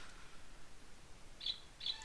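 A bird in the video game Alundra gives two short, high chirps about half a second apart. They are clear and fairly near over a faint game ambience, with no talking.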